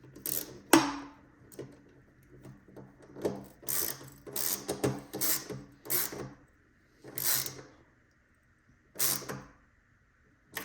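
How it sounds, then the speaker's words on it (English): Phillips head screwdriver tightening a screw during assembly of a Hiwatt DR 103 amplifier top, giving close, dry ratcheting clicks and creaks in irregular bursts with short pauses between turns. "We're going to put our Phillips head screwdriver on that hole. And we are going to tighten"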